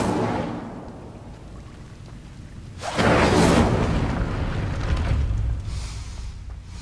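Casting the Incendio fire spell in Hogwarts Legacy: after a quiet low rumble, a sudden loud whooshing burst of flame erupts and roars on for a few seconds before easing to a sustained rushing hiss.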